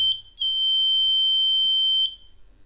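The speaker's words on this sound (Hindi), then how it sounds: "और बजर बजने लगा।" An overload buzzer on a 300-watt inverter board lets out a brief chirp, then a loud, steady, high-pitched tone that holds for about two seconds and stops sharply, heard close with no talk.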